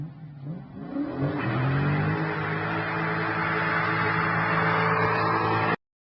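A Dodge Challenger with a manual transmission revs its engine, a sustained loud roar that climbs in pitch and holds steady before cutting off abruptly, with no talking.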